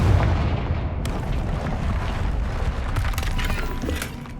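The Confringo spell blasts out in Hogwarts Legacy, a heavy booming explosion with rumbling low end and sharp crackling bursts that keep rolling through a chaotic in-game fight.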